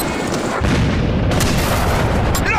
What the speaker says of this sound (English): Enemy barrel bombs on the way!